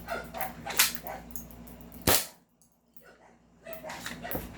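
A 2011 SRC Hi-Capa airsoft pistol fires one sharp, loud crack in the middle, with other scattered clicks and handling noises before and after, outdoors.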